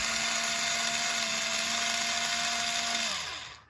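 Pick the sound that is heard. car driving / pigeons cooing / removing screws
removing screws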